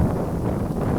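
Wind buffets a microphone in a steady, loud, low rumble that lasts throughout the second without any speech.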